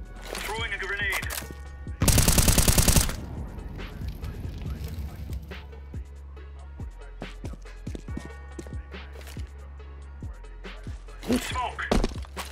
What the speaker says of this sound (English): Throwing fire. Throwing a grenade.